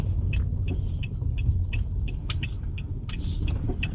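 A Toyota Sienta's steering knocks with a dull dug-dug while the car turns: a row of short, evenly spaced thuds over a low, constant road rumble.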